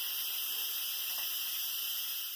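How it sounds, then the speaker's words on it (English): Instant Pot quick-releasing steam after cooking quinoa, a loud, steady high-pitched hiss that holds unbroken from start to finish. "It's got all that steam it has to release."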